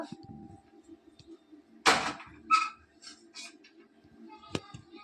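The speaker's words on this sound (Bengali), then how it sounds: "এবার আমি কড়াইটা চাপিয়ে দিব।" A wok set down onto a lit gas stove gives one sharp metallic clatter near the middle, followed by a couple of lighter knocks and a brief clink, over a faint steady hum.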